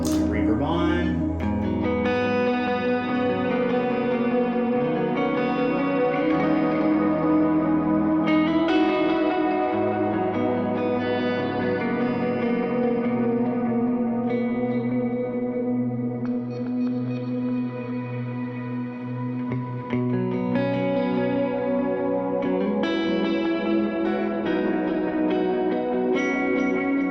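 Hologram Electronics Microcosm pedal with its reverb engaged, layered looping melodic notes smeared into a lush, echoing wash, sustained and steady throughout with drifting repeats and no talking.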